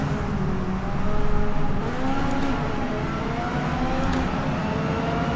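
A race car accelerates hard on the full Nürburgring Nordschleife circuit, its engine a loud, continuous drone that swells and climbs in pitch as it pulls through the gears, close and with no talk.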